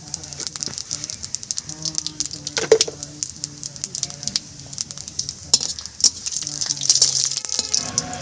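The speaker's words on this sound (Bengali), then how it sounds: "পাঁচ ফোড়ন দিলাম।" Panch phoron spices crackle and sizzle in hot oil, a brisk close rattling patter with scattered pops that grows denser toward the end.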